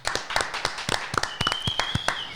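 A small podcast studio group gives a brief round of applause for a guest, a few hands clapping quickly and unevenly, close and short.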